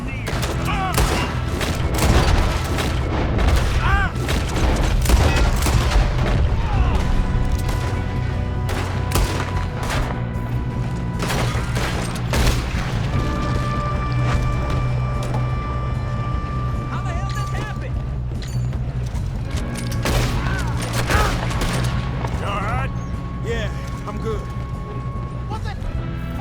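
Shootout gunfire from the Red Dead Redemption 2 video game during a train robbery in the snow, dense bursts of rapid shots and booms through the whole stretch, mixed with voices talking and shouting.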